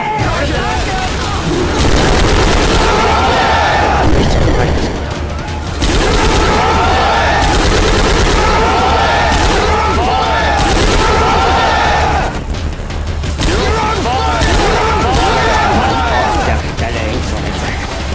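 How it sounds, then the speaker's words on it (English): Sustained, dense chain gun fire from Left 4 Dead 2, a continuous loud barrage with booming impacts and explosions, briefly dipping twice, while voices talk over the game audio. "Grabbing the chain gun."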